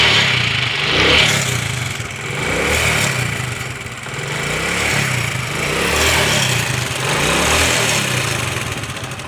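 A motorcycle engine started after a CDI unit repair, running close by with a steady mid-pitched idle that rises and falls in slow, uneven surges, with no talk over it.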